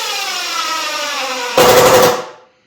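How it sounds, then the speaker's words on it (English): A DeWalt cordless drill whirs steadily as it drives screws, then bursts into a rough rattling grind and winds down to silence as the battery dies. "My drill just died for this video clip."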